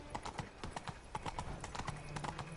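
Horse hooves clip-clop at a steady galloping rhythm in The Witcher 3: Blood and Wine, close and fairly loud, with game ambience underneath.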